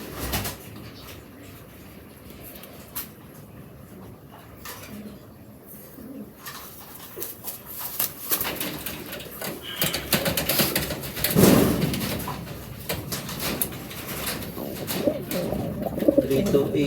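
Racing pigeons coo softly at a loft during a long-distance derby race, with wing flaps and rustling building toward the end and faint voices in the background.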